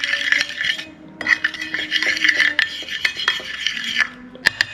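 A spoon scrapes and clinks around a bowl of tandoori chicken marinade as lime juice, salt and chili powder are mixed in, with steady rasping stirs and a few sharper taps against the dish.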